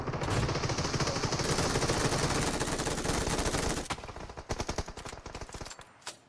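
Rapid automatic gunfire from PUBG Mobile, a dense sustained burst for about four seconds that breaks into separate sharp shots, loud and close.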